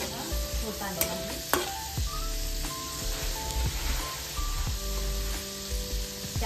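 Garlic frying in a pan for a homemade dill leaf vegetable dish, a steady close sizzle with a few sharp clicks of stirring throughout.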